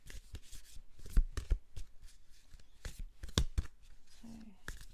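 Tarot cards being handled and drawn from a friend's deck, with soft close shuffling, sliding and tapping sounds in irregular bursts, quiet overall.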